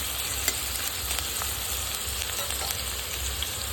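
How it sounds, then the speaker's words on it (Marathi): Onion browning in a pan for a dill leaf vegetable dish, a dense, even hiss of frying with a few faint stirring ticks and no voices. "कांदा आपण थोडासा लाल करून घेऊया"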